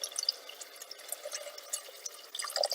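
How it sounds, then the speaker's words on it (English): Water is added to a pot of Maltese pasta soup, giving faint, irregular splashing and dripping with a brief livelier pour near the end, heard without talk. "I'm going to add more water to this"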